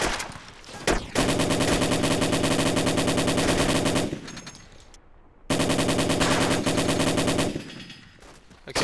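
Enemy armoured personnel carrier fire in the ARMA 2 combat game: long, loud bursts of rapid automatic gunfire, two sustained strings separated by a short lull, with no talking.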